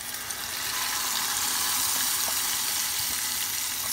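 Grated tomato goes into a pan of frying sauce for homemade İskender, giving a steady, close sizzling hiss that holds evenly throughout with no voices.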